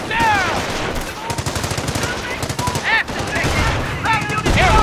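Rapid machine gun bursts crackle through a World War II firefight in the strategy game Company of Heroes, loud and sustained across the battle with scattered chirping effects and brief shouted voices mixed in.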